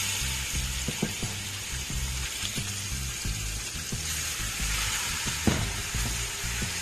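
Marinated shrimp hit a hot pan for a spicy Jamaican curry, giving a steady bright sizzle with a run of small clicking and scraping taps from the utensil, close by and with no voices.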